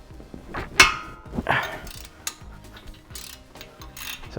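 A ratchet wrench turns a 17 mm brake caliper bracket bolt on a Toyota Sienna, sounding as irregular clicking and metallic ratcheting with a few sharper clanks, close up and fairly quiet.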